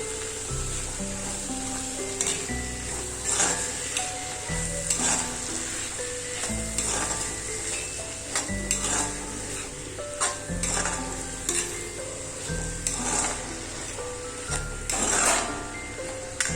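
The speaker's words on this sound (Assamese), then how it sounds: "এতিয়া জাতিলাও, মটৰ আৰু বিলাহী ধুনীয়াকৈ ভাজি ল'ব লাগিব।" Bottle gourd, peas and tomato frying together in a pan, a steady sizzle with stirring scrapes, mostly buried beneath continuous background music with stepped tones.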